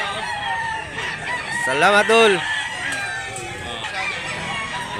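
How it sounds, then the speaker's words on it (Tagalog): A Blue Miner bloodline gamefowl rooster in Mantalungon, Cebu crows once, a loud, close, drawn-out call rising and falling over about half a second, with men chatting nearby before and after. "Quality manok."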